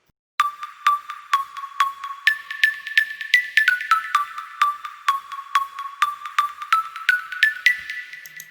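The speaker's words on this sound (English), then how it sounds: "So this is how the pluck melody sounds like." Progressive house synth pluck melody made in FL Studio, a steady run of bright, short plucked notes with quick decays, stepping up and down in pitch, clean and alone.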